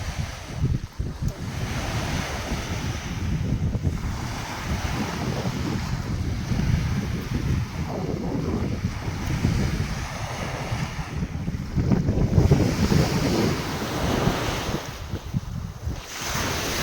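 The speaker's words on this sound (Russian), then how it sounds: "Море, Ладожское озеро." Surf rolls onto the shore of Lake Ladoga in a continuous loud wash of breaking waves, with gusting wind buffeting the microphone and no voices.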